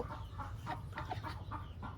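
Chickens clucking steadily in a breeding pen at a farm in Buriram, Thailand, with repeated overlapping clucks near and moderately loud over a continuous low background hum, no speech.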